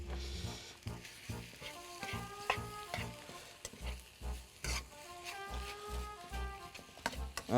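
Shrimp and noodles stir-fry in a pan with a bright sizzle, while repeated tossing and scraping knocks against the metal. Music plays steadily underneath.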